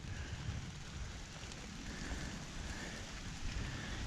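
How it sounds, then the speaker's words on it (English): Rain falls steadily outdoors on an off-grid homestead, a dense even hiss that keeps going, with some wind noise and no talking. "it's starting to rain harder"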